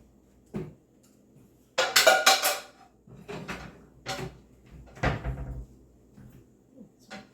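Several hollow clunks and metallic clatters as pots and pans are pulled from a cupboard, with a door opening and closing between the bursts.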